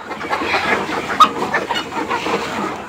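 More than 1,500 Fayoumi chickens on a poultry farm make a close, continuous chorus of overlapping clucks and short calls, with one louder squawk standing out.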